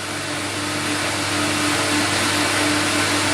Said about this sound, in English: one motor running on the CamVac and the vacuum pump running